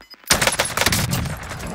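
Burst of gunfire in the Warzone video game, a dense sharp volley of shots starting abruptly after a brief quiet and continuing as a steady, loud rattle.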